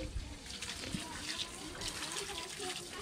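Water pours into a car's windshield wiper washer reservoir, a faint, steady trickle and splash running throughout while people talk nearby.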